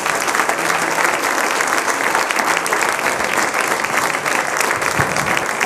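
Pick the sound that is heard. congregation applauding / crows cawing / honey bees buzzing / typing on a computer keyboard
congregation applauding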